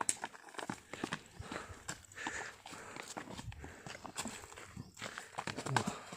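A tired bullock plods along on foot, its hoofsteps a faint, uneven clopping with scattered soft thuds amid quiet outdoor ambience.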